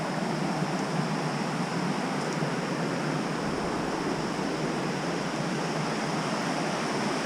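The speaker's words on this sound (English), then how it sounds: "with the noise of the river, no one's going to hear you shouting" The River Dart flows along a Dartmoor trail, a steady, broadband rush of water that sounds close and continuous with no breaks.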